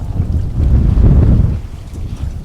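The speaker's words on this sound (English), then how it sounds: "It's really windy out here," Strong wind buffets the microphone outdoors in a container garden, a loud low rumbling gust that swells in the middle and eases off, with no talking.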